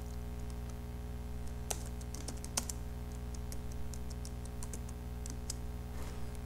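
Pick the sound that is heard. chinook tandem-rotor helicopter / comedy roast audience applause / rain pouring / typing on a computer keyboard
typing on a computer keyboard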